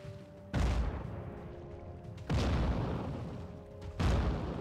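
Three heavy booming cannon shots in the PlayStation 2 game Hugo Cannon Cruise, evenly spaced about two seconds apart, each loud and sudden with a rumbling tail.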